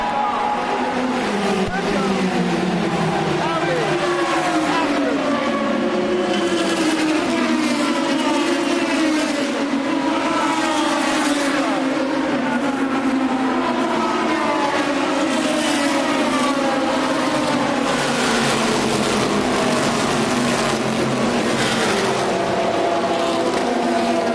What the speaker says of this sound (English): I can see the flag being held as the cars approach.